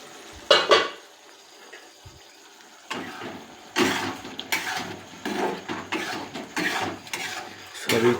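A metal pot lid clanks and scrapes against a pot of egg and potato curry, with several sharp clatters and handling noises between short quiet gaps.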